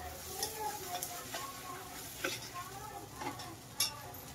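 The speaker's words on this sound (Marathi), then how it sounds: "मसाल्याला ना चांगलं तेल सुटेपर्यंत ना परतून घेऊया आपण।" Spice masala for a spicy Ghati-style mutton dish is stirred in hot oil, with a soft sizzle under irregular scraping strokes of a spoon against the pan, close and fairly quiet.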